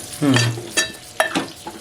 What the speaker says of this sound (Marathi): फ्राय करून मसाले परतून घेते